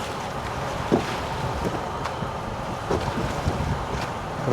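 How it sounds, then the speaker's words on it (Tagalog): A boat crosses rough waves on the water near Taal Volcano in Batangas. Wind roars steadily with a broad wash of noise, and a few soft thumps and splashes rise out of it. "Grabe yung mga alon"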